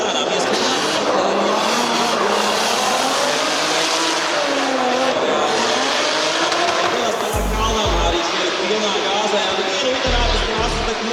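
A drift race car revs and slides hard, its engine roaring continuously with bursts of tire squeal, joined near the end by deep thumping hits; a commentator talks over the whole stretch.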